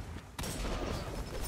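A golden gun fires in a shooter video game. A single sharp blast is followed by a sustained roaring, rumbling wash that stays fairly quiet and distant.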